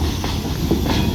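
A short train rolls down a street track in a no-horn zone, a steady loud rumble of wheels and cars with faint hiss, a few soft clanks rising through the continuous noise, no voices.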